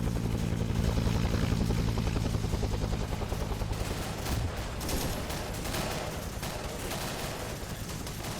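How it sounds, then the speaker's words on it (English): Gunfire in Arma 3 Vietnam SOG, a dense rattle of rifle and machine-gun shots mixed with a heavy helicopter rotor drone, loud and continuous with scattered sharper bursts. "They're pretty much all shooting at us"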